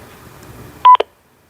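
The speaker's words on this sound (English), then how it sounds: "hopefully you heard that beep. Again, that was it transmitting its location" A short burst of tone-like beeps from a SINCGARS military radio transmitting its position, loud and abrupt after a faint hum, then silence.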